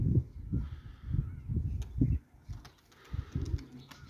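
A pigeon coos in soft, low, rhythmic phrases, repeated several times close by, with faint background noise.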